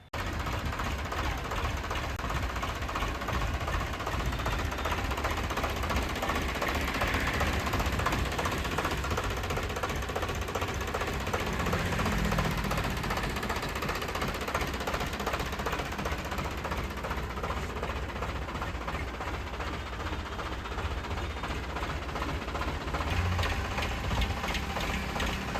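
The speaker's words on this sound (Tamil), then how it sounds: "இந்த டிராக்டர் பார்த்தீங்கன்னா சொனாலிகா டிஐ 734ங்க" A 2023 Sonalika DI 734 tractor engine idles steadily nearby, a continuous loud diesel clatter with an even knocking rhythm and no voices.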